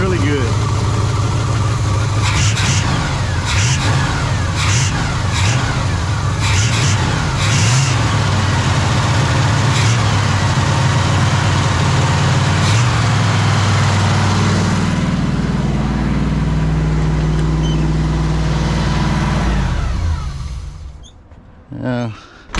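A car engine with a freshly rebuilt Quadrajet carburetor runs at a steady, rumbling idle that rises and holds a raised pitch, loud and continuous, with people talking over it, before it cuts off near the end.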